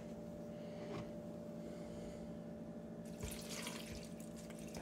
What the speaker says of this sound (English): Putting some water in here to help it